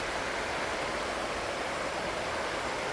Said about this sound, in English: we got a nice sound of the creek beside us